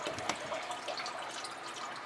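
A kitchen faucet runs water in a steady, close hissing stream during a faucet installation, with nobody talking.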